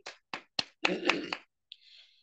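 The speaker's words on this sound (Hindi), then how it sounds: "जबरदस्त तालियां चाहूंगी" A few sharp, isolated hand claps or snaps at a motivational talk, sparse and uneven, followed by a brief burst of several overlapping claps and a faint trailing hiss.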